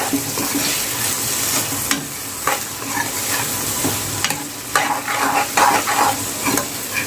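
Cabbage, peas and tomato sizzle and fry in a pan for veg fried rice while a spoon stirs them, giving repeated scraping and clattering strokes over a steady close-up sizzle.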